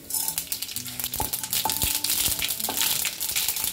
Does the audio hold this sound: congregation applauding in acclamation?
no